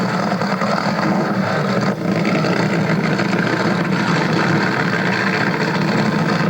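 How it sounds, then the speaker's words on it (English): Top fuel funny car drag racers firing up on starters at Santa Pod Raceway in the 1970s: a loud, continuous rough engine roar heard at a distance, dense and unbroken, with no speech. "The funny cars, as you know, they'll be coming down, firing up in the normal way in the starter"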